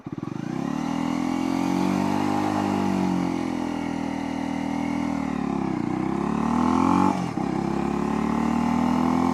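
A Honda CL250 motorcycle's 250cc engine runs steadily through a slow U-turn, its pulsing mid-range note rising and falling with small throttle changes, with a brief dip and blip near the end, loud and close.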